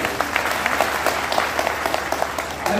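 Applause from a crowd at an election rally in Jorhat, Assam: dense, steady clapping from many hands, continuous and fairly loud across the whole stretch with no one speaking.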